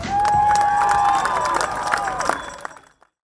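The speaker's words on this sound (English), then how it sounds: "A round of applause, Fortunate Parker." An outdoor crowd at a march for elephants, rhinos and lions in Johannesburg cheers and claps, with a sharp whistle ringing out over the applause before the clapping thins and fades to silence.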